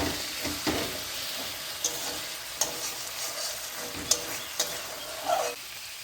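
Water splashed into a sticking pan of potol paneer, a Bengali pointed-gourd and paneer curry, sets off a steady sizzle with brief sharp spits and crackles. Stirring scrapes sound over it at close range, and nobody speaks.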